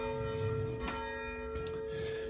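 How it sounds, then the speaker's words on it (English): A rope-swung church bell rings with a sustained, humming tone and layered overtones, plus a second strike partway through, heard fairly faint and alone. "swinging of the bell."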